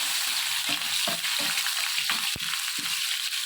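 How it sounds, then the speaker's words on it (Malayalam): Sliced onions sizzle in hot oil for hotel-style tiffin sambar, a steady frying hiss broken by several distinct scraping strokes of a spoon stirring the pan, close and alone. "സവോള കട്ട് ചെയ്ത് വെച്ചത്, അതൊന്ന് അതിലേക്ക് നന്നായിട്ട് ഇളക്കിയെടുക്കണം."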